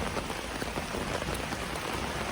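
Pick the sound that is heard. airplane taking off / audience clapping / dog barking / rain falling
rain falling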